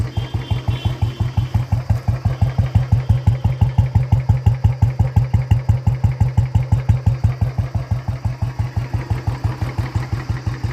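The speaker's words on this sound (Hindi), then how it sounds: "ये है आइडियल पे साउंड।" A Royal Enfield Bullet motorcycle fitted with an Indori silencer idles up close, its single-cylinder thump pulsing in a loud, even, rapid beat that holds steady throughout.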